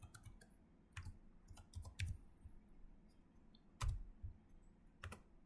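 Typing on a computer keyboard in a quiet room, with scattered clicky keystrokes arriving in short irregular bursts and pauses, close and fairly soft, and no voices.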